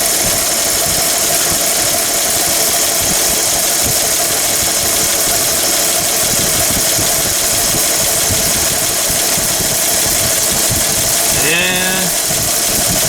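A Chevy 235 straight-six engine idles steadily and loudly up close, already pre-oiled, with a constant mechanical clatter and hum throughout and a brief squeal near the end.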